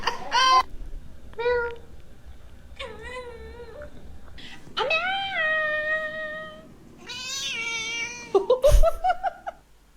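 Cat meowing, several drawn-out harmonic calls with pauses between them, close and fairly loud, one wavering and rising near the end, with no talk over them.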